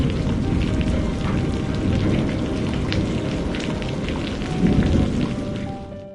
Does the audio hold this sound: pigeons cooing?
no